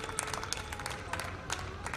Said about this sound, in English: with a round of applause, and that shot certainly deserved it.